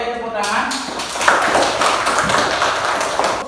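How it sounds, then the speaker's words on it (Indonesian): Students in a classroom break into applause: a dense, steady clatter of many hands clapping that builds quickly after a brief pause and continues loudly, with voices mixed in underneath. "Oke, tepuk tangan."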